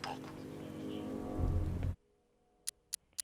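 Rain falls outside a chemical plant in the video game Batman Arkham Knight, a dense, steady hiss with a low rumble that ends abruptly, followed by quiet and three sharp ticks.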